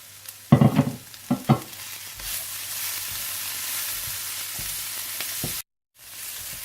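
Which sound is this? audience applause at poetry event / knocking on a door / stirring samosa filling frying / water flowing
stirring samosa filling frying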